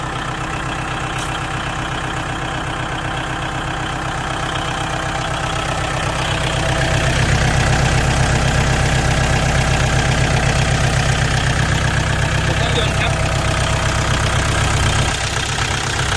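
A used Kubota L4708 tractor's diesel engine idles steadily and loudly up close, a constant low throbbing rumble that swells slightly midway and continues throughout.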